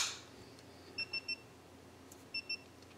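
A Midland XTC 280 action camera beeps to signal that recording has stopped: a quick triple beep, then a double beep, all thin and high-pitched, heard close by over a quiet hiss.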